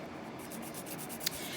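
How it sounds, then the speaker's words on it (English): A coarse 100 grit nail file scrapes along the sides of an acrylic nail in a quick run of soft, rhythmic rasping strokes, close and fairly quiet, with no talking. "I'm just grabbing the 100 grit file, and I'm just gonna go and file along the sides like this"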